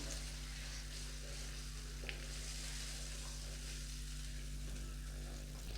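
Mushrooms frying in a pan for mushroom pepper masala, a soft, steady sizzle over a low constant hum, with one small clink partway through.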